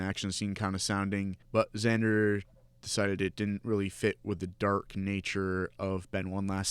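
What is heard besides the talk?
No everyday noise stands out behind the speech.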